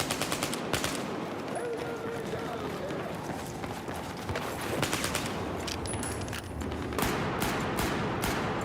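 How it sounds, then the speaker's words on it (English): Rapid bursts of automatic gunfire crackle through a Call of Duty match, repeated sharp volleys over running footsteps, loud and close, with a voice talking over them. "I'm just pre-firing."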